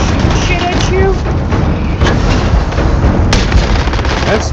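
Enemy gunfire directed at the player in the video game Starfield, a dense, continuous barrage of shots and booms with a few sharper cracks, loud and close throughout.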